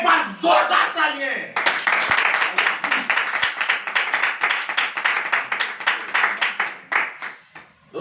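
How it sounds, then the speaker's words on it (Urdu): A church congregation clapping loudly together in worship, a fast, rhythmic run of sharp, close handclaps. A voice is heard briefly at the start before the clapping takes over. "ایک بار زوردار تالیاں"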